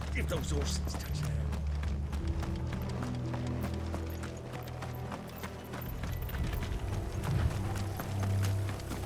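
Horses gallop in the Final Fantasy XVI video game, a steady clatter of hooves under a low rumbling score, with speech heard over the busy, continuous mix.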